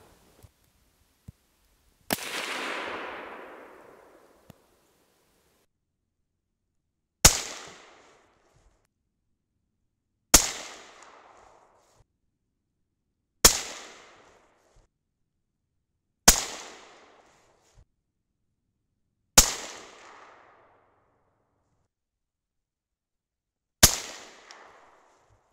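Seven sharp, loud 6.5 Creedmoor rifle reports loaded with small primers, spaced several seconds apart outdoors; the first shot rolls into a long trailing echo and the later ones decay quickly, with no talking.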